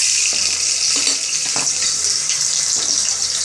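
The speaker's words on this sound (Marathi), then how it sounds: "आपलं तेल तापलं आहे त्यामध्ये लसूण टाकलं आहे दोन पाकळ्या आणि एक कांदा टाक" Two garlic cloves and an onion fry in heated oil for a spicy mutton curry, a loud, continuous close sizzle with a few faint clinks and stirring touches.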